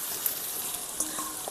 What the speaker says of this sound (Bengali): এবার এর মধ্যে দিয়ে দেব ভেজে রাখা এঁচড়গুলো